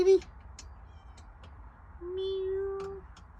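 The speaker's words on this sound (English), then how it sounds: "Our helper kitty. Little feral kitten somebody gave me." A little feral kitten meows twice, a short near call followed after a pause by a longer, drawn-out meow, in a quiet setting.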